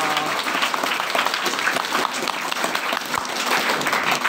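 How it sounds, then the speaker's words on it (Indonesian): A crowd at a dormitory opening ceremony for Indonesian Independence Day competitions claps for the children, with brisk, steady applause sustained throughout and no clear speech. "Tepuk tangan untuk anak semua ini."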